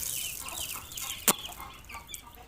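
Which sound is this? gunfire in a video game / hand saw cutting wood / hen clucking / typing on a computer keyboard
hen clucking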